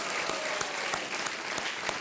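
Studio audience on a quiz game show applauding steadily, a dense even patter of many hands clapping at moderate distance, with no speech over it.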